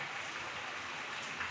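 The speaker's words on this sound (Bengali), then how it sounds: "বৃষ্টির আওয়াজ নিশ্চয়ই আপনারা শুনতে পাচ্ছেন।" Heavy rain pours steadily outdoors, a continuous dense hiss with no breaks and no voices, heard at a moderate level throughout.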